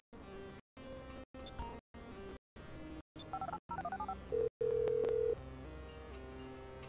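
Phone dialing in the video game GTA V: a series of short beeping key-tone bursts separated by brief gaps, then a held tone and a steady ringing tone, close and clear with no speech.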